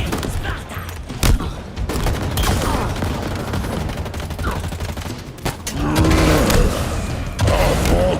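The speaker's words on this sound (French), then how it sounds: "Ah, il a un fusil à pompe." Shotgun blasts and bursts of gunfire from the video game Halo Infinite, loud and repeated amid explosions and mechanical game effects, with a few heavier booms, running continuously throughout.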